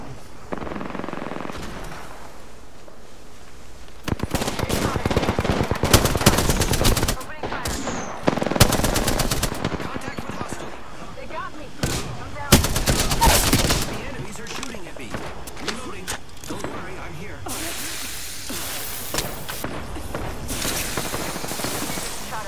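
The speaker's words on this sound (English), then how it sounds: "I am taking fire, friends" Bursts of rapid automatic gunfire in the video game Apex, several loud sustained volleys separated by quieter gaps, with game sounds and a voice in between.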